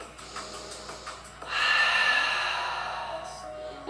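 A long, audible exhale during a yoga flow rises after a quiet start, then slowly fades over a couple of seconds; close and soft, with faint background music and no talking.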